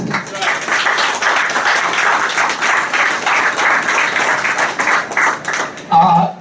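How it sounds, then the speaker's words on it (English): Sustained round of applause from the guests at a fire department captain's retirement party, steady and fairly loud for about six seconds before tapering into a brief pause. "And we're a round of applause for Danny on that."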